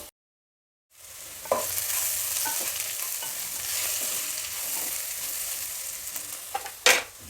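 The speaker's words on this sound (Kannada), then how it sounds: "ತರಕಾರಿ ಎಲ್ಲ ಚೆನ್ನಾಗಿ ಫ್ರೈ ಆಗಿದೆ" Vegetables for pulao fry in a pan with a steady, close sizzle after a second of silence, with a few scraping stirs and a sharper clatter near the end.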